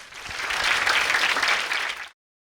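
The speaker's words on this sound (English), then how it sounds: "A round of applause, please." An audience at a youth parliament debate show in Ghana bursts into steady applause, holding a dense, even level of clapping for about two seconds before it cuts off abruptly.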